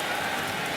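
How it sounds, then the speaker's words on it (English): Rain falls steadily at an outdoor college football stadium during an Alabama at Missouri game, a dense, even hiss of drops with no distinct voices. "It is raining."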